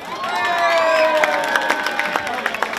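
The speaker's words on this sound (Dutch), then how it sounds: "ik wil voor deze drie ook een groot applaus." A crowd at a carnival lip-sync contest cheers and shouts, with children's high voices rising over scattered claps that become sharper and more distinct toward the end.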